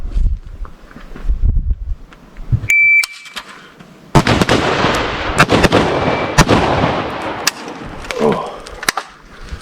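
AK-47/AK-103 rifle fire during combat drills, with a burst of loud sharp shots close by after a quieter opening, some spaced and some in quick succession, a short beep partway through and people speaking around them.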